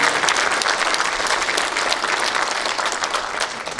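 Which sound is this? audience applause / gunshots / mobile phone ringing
audience applause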